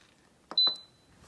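Instant Pot pressure cooker giving two quick, close beeps as its buttons are pressed, the second ringing on briefly before fading, with a faint third chirp at the end.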